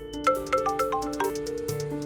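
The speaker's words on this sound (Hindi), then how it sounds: "विवान प्लीज फोन उठाओ, प्लीज उठाओ।" A phone ringtone plays a rapid, melodic sequence of bright electronic tones, clear and close, with no voices.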